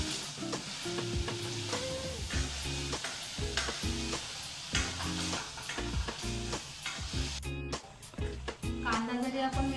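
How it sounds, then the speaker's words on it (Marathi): Onion sizzling in hot oil for pav bhaji, stirred repeatedly with a utensil so rhythmic scraping knocks punctuate the steady close frying hiss, with a brief pause near the end. "तेल तापलेलं आहे, आपण थोडा कांदा घालणार आहोत त्याच्यात।"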